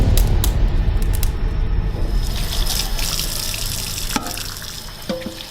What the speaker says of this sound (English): After giving the dinner plates a quick wash